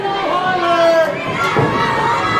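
A pro wrestling crowd roars and chatters in an arena, a loud, dense wash of cheering and shouting voices with a commentator talking over it.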